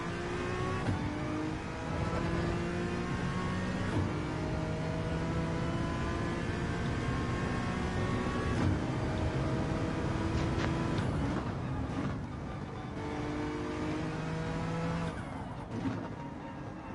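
A race car engine in a racing video game drones through a lap, climbing in pitch through repeated gear changes with brief drops between shifts, steady and continuous, with faint tire noise and no talk.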